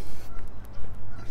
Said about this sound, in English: Lots of geese.